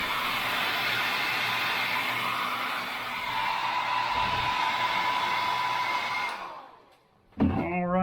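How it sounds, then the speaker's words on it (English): A hair dryer blows steadily and fairly loudly to dry paint on a carved wooden caricature cowboy bust, then winds down and switches off near the end, followed by a brief voice. "I'm going to dry everything here because I don't want paint running."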